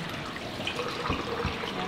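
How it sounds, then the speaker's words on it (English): Dye water being poured out of a sink and a dyed skirt rinsed under running water, a soft steady splashing wash with a couple of low gurgles, close and without speech. "Pour the water out, rinse it off."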